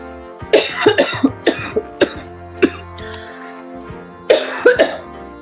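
Several sharp coughs in a cluster, then a pause and another burst of coughing, close and loud, with a steady musical tone underneath.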